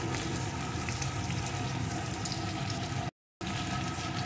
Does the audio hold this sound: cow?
no